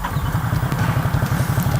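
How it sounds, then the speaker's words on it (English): A 2018 Ducati SuperSport S with stock exhaust idles with a lumpy, rapid low throb, its twin-cylinder pulses steady and close throughout. "Starts with authority, like all Ducatis, which means that it doesn't sound like it wants to start at all."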